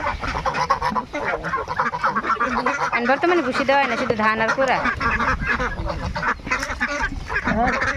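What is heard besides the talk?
domestic ducks quacking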